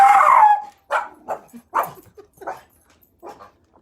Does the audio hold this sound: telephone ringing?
no